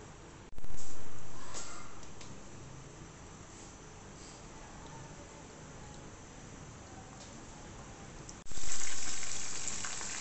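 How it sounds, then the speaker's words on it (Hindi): Chicken drumsticks deep frying in oil over a low flame, giving a steady, fairly loud sizzle throughout with two brief sharper bursts of crackle near the start and end. "तकरीबन 5 से 7 मिनट हम एक साइड को फ्राई करेंगे हल्की आंच पे"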